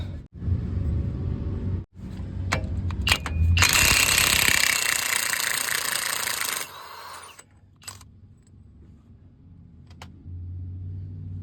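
A Chevrolet Silverado 1500 axle nut on the front wheel hub is undone with a loud pneumatic impact wrench, several hammering bursts of rattling then a long sustained run that cuts off, followed by a quieter tool hum.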